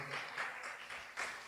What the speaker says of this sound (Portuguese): uma salva de palmas para essas pessoas